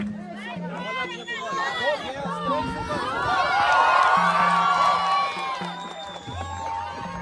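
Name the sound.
crowd of landless farm workers booing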